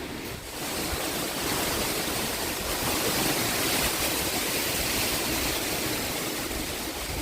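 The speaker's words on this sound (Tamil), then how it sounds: "நல்லா காத்தடிக்குது" Strong wind blows steadily ahead of rain in rural Tamil Nadu. It makes a continuous broadband roar with gusty buffeting on the microphone and no talking.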